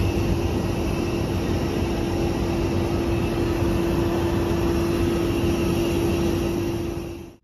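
Steady airplane drone of a passenger flight to Salem, a dense, even engine and cabin hum with a constant tone that runs unbroken, then quickly fades away at the very end.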